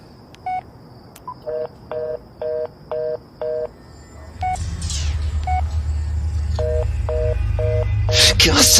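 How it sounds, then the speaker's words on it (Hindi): A mobile phone dialing the police on a highway at night, a quick series of short keypad tones followed by a rumbling engine-like background and more tones, fairly close and distinct. "मैंने झट से अपना फोन निकाला और पुलिस को लगाया।"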